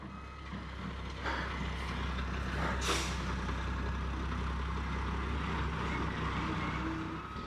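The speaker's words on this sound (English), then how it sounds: "After several unsuccessful attempts to turn the pumper around, I was getting really worried." A concrete pump truck maneuvers on a remote off-grid road, its heavy engine rumbling steadily and close with a hiss of air brakes partway through and faint reversing beeps, with no talking.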